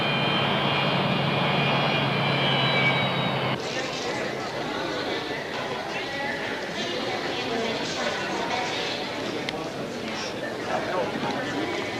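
A big airplane comes in to land in bad weather, its engines roaring as a steady, loud, broad rumble that holds throughout, with voices speaking underneath.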